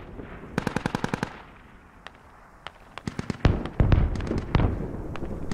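Weapons firing in the Steel Rain video game: a rapid burst of automatic fire, then scattered single shots and dense overlapping volleys with booming impacts, loud and close.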